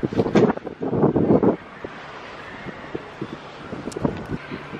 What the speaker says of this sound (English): super afraid my camera is going to fall over because very windy